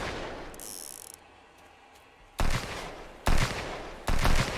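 Three loud gunshot bursts from the Sunkenland survival game, each a sharp broadband blast with a short tail, arriving at irregular intervals after a quieter stretch of mechanical ambience.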